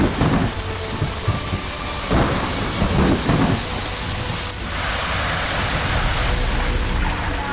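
Heavy monsoon rain over Uttar Pradesh and Bihar pours steadily while thunder rumbles and cracks in several bursts early on, followed by a loud, unbroken downpour.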